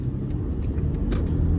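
A 2024 BMW 520i pulls away from a standstill, its low rumbling engine and road noise steady and moderately loud, with a few faint higher-pitched bursts and no talk.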